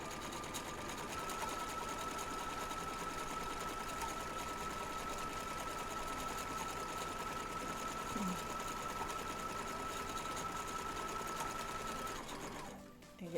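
A sewing machine runs a long, clean basting stitch in one continuous steady buzzing hum lasting several seconds, close and even, then stops abruptly at the end.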